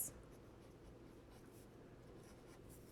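Faint pencil or pen scratching on paper while math notes are handwritten, a soft continuous scribble with brief louder touches at the start and end.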